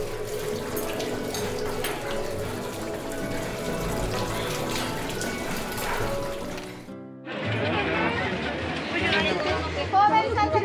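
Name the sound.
water running from a tap for rinsing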